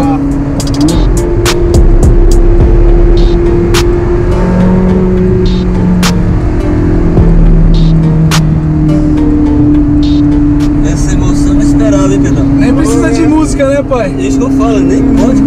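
A Ferrari convertible's engine drones steadily at close range throughout, its pitch rising and falling as gears change, with people talking over it inside the open car.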